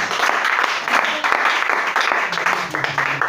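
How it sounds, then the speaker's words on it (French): Congregation applauding during a church worship service, sustained dense clapping from many people throughout, fairly loud, with voices mixed in. "Acclame Jésus-Christ aussi."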